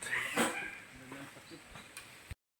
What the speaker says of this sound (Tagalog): Ingay nga lang yung aso.